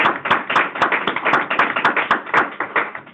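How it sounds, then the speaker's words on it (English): Brisk, close clapping from a small meeting audience, sharp irregular claps forming a short round of applause with no voices over it. "Let's give him a round of applause"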